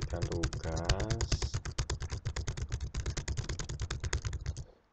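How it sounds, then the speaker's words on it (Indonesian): Someone types on a computer keyboard in a rapid, steady run of close keystrokes lasting several seconds. A brief murmur of voice comes early, then only the clicking continues until it stops. "Kita coba ketikkan tugas."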